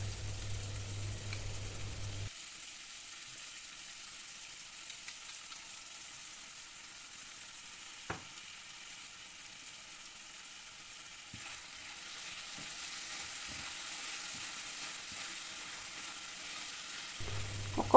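Chilli paneer sauce with soy sauce, vinegar and tomato ketchup being stir-fried in a pan, a soft steady sizzle with occasional light scrapes, heavier at the start and end.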